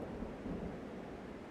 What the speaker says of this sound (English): at night there's thunder rumbling